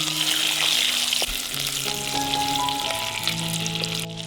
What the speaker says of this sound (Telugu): మంచి కలర్ వచ్చేంత వరకు ఫ్రై చేసుకుందాం.